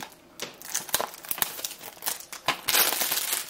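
Plastic wrap crinkles and tears as it is peeled off a sealed Blu-ray case of Spider-Man: Far From Home, close and crisp in irregular bursts with no talking.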